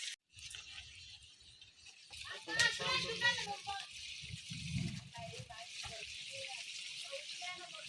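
Fish frying in a pot on a home stove while a big batch of khichuri and duck curry is cooked for a family meal; a broad, steady sizzle runs throughout, with children and adults talking and moving about close by.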